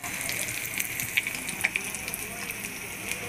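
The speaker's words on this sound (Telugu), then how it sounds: "ఓకే, తాలింపు అయితే అయింది." A tempering of spices and garlic sizzles in a pan for dal curry, a steady, moderate hiss with a few small pops and clinks, no talk over it.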